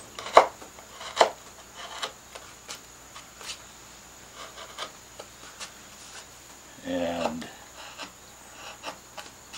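A wood carving chisel chops out oak strapwork: two sharp, close cuts near the start, then scattered lighter taps and a short scraping rasp toward the end, with no talk.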